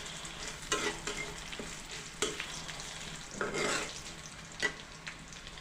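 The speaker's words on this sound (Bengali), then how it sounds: "এটা কিছু ভালো করে নেড়ে নিব সাথে কিছু জিরা দিয়ে দিলাম" Pointed gourd fries with cumin in a pan, giving a soft, steady sizzle broken by occasional sharper scrapes as a spatula stirs it, close and fairly quiet.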